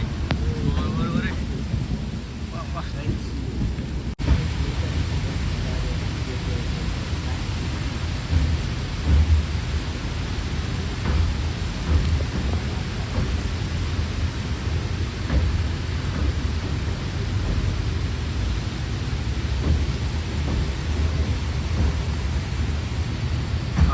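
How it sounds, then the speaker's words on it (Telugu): Heavy rain with rolling thunder during a train journey from Mangaluru to Yesvantpur, a steady dense roar of rainfall with low rumbling underneath that runs unbroken throughout. "ఈ లోపల వాన కూడా ఫుల్ అయితే స్టార్ట్ అయిపోయింది చూడండి"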